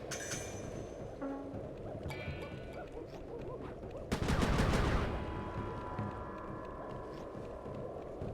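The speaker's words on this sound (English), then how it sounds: "Be careful with those fireworks, Panda King" Fireworks launch during gameplay in Sly 3, with a loud burst of crackling explosions midway through over a steady hum of game music and effects.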